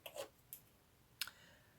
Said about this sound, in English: you can just use your pliers to cut it.